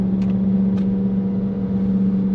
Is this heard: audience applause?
no